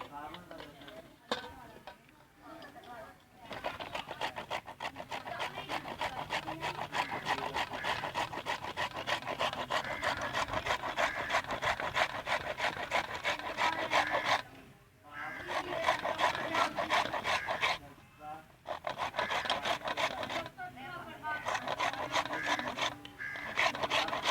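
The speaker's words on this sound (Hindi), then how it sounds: "इस तरह हमने सारे गाजर जो है रगड़ी हैं पहले।" Carrots are rubbed against a grater for gajar ka halwa, giving a steady, close rasping scrape that runs continuously with a few short pauses.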